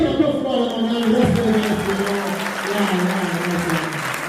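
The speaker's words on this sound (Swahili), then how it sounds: "Wewe unapiga makofi kwa mama yangu." Applause from an audience at a memorial charity gathering, a steady wash of hand claps held at an even level for the whole stretch, with a sustained musical tone running underneath.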